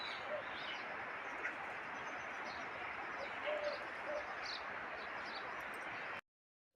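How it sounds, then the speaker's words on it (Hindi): Many small birds chirp and tweet while feeding during a morning meal outdoors, a busy scatter of faint, bright calls over steady background hiss, with no talking. "यहाँ पे देखिए बहुत सारी चिड़ियाँ आ गई है खाने के लिए।"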